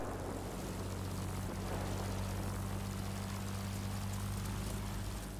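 Propeller-driven enemy aircraft drone steadily in a PC video game, a constant loud low engine hum with no pauses and no voices.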